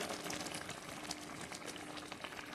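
A pot of vegetable curry (rasa) bubbles at a steady boil, a dense continuous hiss and simmer close by, with no one talking.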